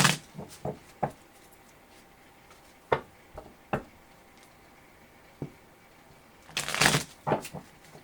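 A tarot card deck being handled and shuffled while decks are switched: scattered crisp card snaps and taps, with a denser riffling burst near the end, close and fairly quiet with no talking.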